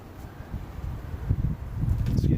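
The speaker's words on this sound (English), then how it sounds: "It's getting windy." Wind gusts sweep across a winter hot-tent camp with a woodstove, making a low, rising rumble of buffeting against the microphone that swells toward the end, with no voices.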